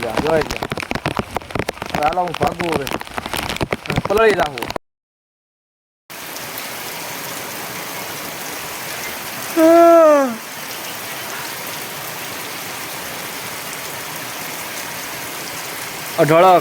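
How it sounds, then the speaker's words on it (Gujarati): Heavy rain pours onto open farm fields, a steady loud hiss of drops on the ground with brief gaps, and people talking and shouting over it now and then. "વરસાદ પડ્યો બોલો"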